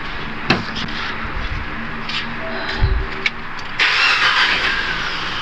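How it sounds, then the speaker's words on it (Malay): Proton Exora turbo car engine starting, a crank burst near the middle then a louder, steady broadband rush from about the four-second mark, close and continuous with no talk. "Coba start satu orang."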